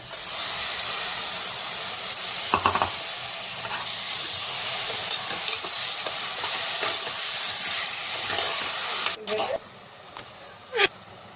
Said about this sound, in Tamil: ஒரு 2 தக்காளி அடித்து வச்சுருக்கேன். இது ஊற்றிக்கலாம்.